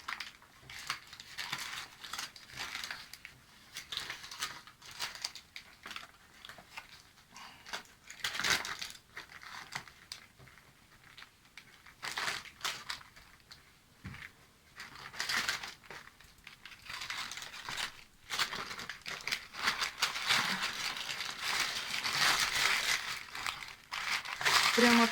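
Baking paper crinkling and rustling as a chicken liver roll is rolled up in it, irregular crackling bursts that come and go close by for many seconds, with some speech in between.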